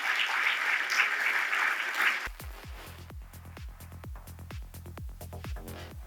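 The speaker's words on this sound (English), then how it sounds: "A warm round of applause" Applause rings out for about two seconds at an evening talk by architect Shigeru Ban, then breaks off and a series of separate struck notes follows at a moderate pace.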